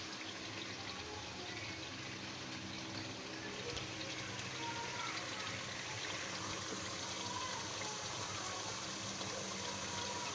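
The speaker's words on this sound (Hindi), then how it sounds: "अब इसमें थोड़ा सा हम पानी डालेंगे" Water is poured into a pan of egg kofta curry, a continuous, even gushing pour lasting several seconds, close and moderately quiet.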